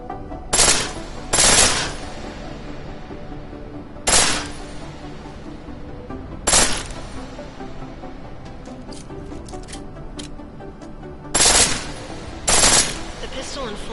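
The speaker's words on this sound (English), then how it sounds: "The pistol in full auto will take down targets fast, but it'll burn through your ammo" Pistol firing in full-auto mode in Deus Ex: Mankind Divided, heard as six short, loud bursts of rapid shots spread irregularly over a steady game background.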